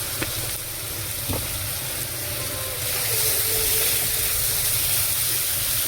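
Masala spice paste frying in a pan for kolar kofta, a steady broadband sizzle and hiss that holds throughout and swells slightly louder in the second half, with no talk.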